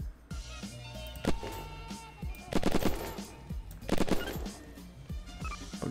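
Bursts of rapid gunfire crackle in short volleys with scattered single shots during a solo raid in the game Unturned, steady game-style effects throughout at moderate volume.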